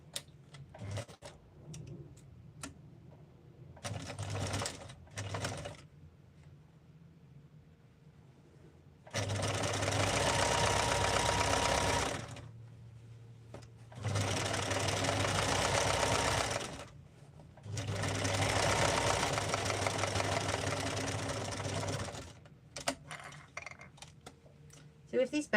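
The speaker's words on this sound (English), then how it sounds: "now I'm going to sew the bottom side" A sewing machine stitching a fabric bag along its bottom side runs in three long, loud bursts of steady whirring, with softer handling clicks and brief pauses between, and a voice speaks quietly at times.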